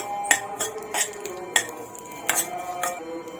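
Poppy seeds are stirred into ghee in a pan with a metal spoon, which gives a series of sharp, close clinks and scrapes against the pan at an irregular rhythm, with no talking.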